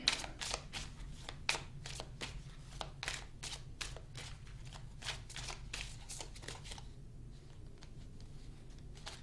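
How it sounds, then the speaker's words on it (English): Tarot cards being shuffled by hand, a quick series of crisp riffling flicks repeating in a steady rhythm, close and quiet, slowing near the end with softer card taps. "No, keep shuffling."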